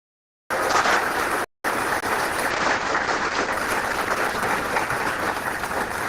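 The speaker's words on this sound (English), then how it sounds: "Let's give Katherine another round of applause for the hard work that she did." A crowd at a family justice center's tenth anniversary celebration gives a round of applause. After a brief silence and a short gap, the clapping stays steady and thick until the end.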